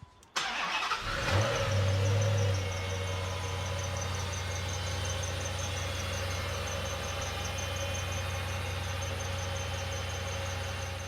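A 2009 Dodge Challenger SRT8 V8 engine cranks and fires up with a loud roar, then settles into a steady, deep, rumbling idle close by.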